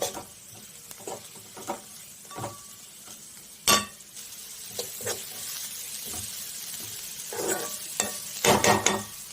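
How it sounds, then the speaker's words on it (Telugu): Onions and dried fish being stirred together in a frying pan, a steady low sizzle broken by scattered scrapes and clinks of the spoon against the pan, with a few sharper knocks near the end. "వేసుకొని ఉల్లిగడ్డ వట్టి చేపలు కలిసేటట్టుగా కలుపుకోవాలి"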